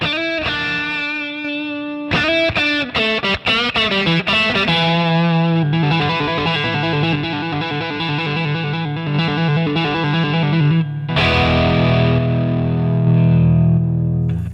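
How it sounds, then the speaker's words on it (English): Distorted electric guitar plays a lead line with bends and sustained notes, loud and forward, ending on a held chord. "I've got a solo boost here"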